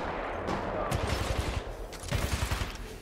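Repeated bursts of automatic gunfire from a firefight in the shooter game Titanfall 2, loud and dense with rapid rhythmic low thumps, rising again in a second volley after a brief lull.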